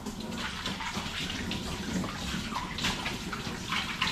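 Water runs steadily from a tap in a continuous splashing gush while something is being rinsed during washing, close and even with no talking.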